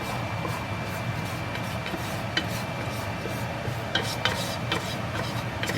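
Flour dough being mixed by hand in a home kitchen, a close, steady rubbing and rasping with occasional light scrapes and taps, with no talking.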